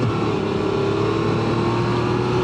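A 2024 Can-Am Spyder RT Limited engine drones steadily and loudly while under way, a continuous close hum mixed with road and wind noise, with no voices.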